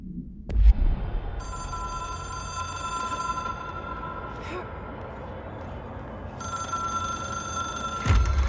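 A telephone in the video game Control rings in two long electronic bursts separated by a pause, loud and tonal over a low ambient game hum, with a couple of sharp thuds.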